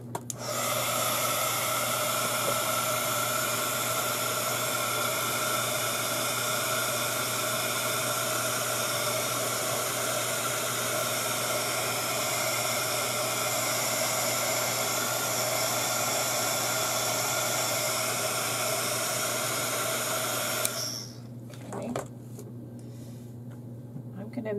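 Hair dryer blowing on wet paint, a loud steady whoosh running continuously for about twenty seconds before cutting off, followed by faint handling noise.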